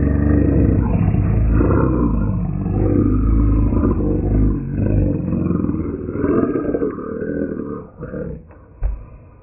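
A person's voice imitates a big cat's roar, a long rumbling growl that swells and fades over several seconds, loud and close, ending in a few rough grunts.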